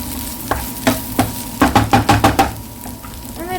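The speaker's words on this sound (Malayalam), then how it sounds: "എന്നിട്ടൊന്ന് നന്നായി ഇളക്കി കൊടുക്കാം." Moringa leaves and capsicum being stirred in a pan, a spoon scraping and knocking against the metal in a quick run of close, regular strokes over a faint sizzle, with no talking.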